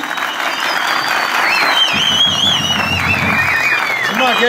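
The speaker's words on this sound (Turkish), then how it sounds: "Bir alkış alabilir miyiz?" A crowd applauds loudly and continuously at an election office opening, dense clapping mixed with shouts, whistles and cheering voices throughout.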